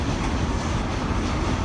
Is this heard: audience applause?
no